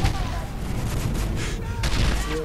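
A grenade goes off in a first-person shooter video game: a loud, dense blast of roaring noise that sustains through the whole moment, with crackling, gunfire-like bursts layered over a heavy low rumble.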